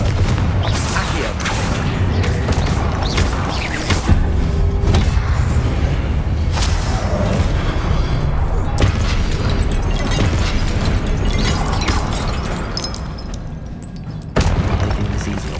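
Spell impacts, blasts and booming explosions from Hogwarts Legacy combat, dense and continuous with thuds, pops and mechanical clatter layered over loud game sound throughout.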